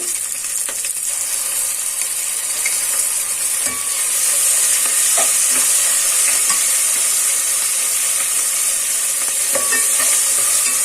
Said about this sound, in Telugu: ఆనియన్ కొంచెం ఫ్రై అయింది కదండి, ఇందులోనే పచ్చిమిర్చి ముక్కలు, అలానే అల్లం చిన్నిపాయ పేస్ట్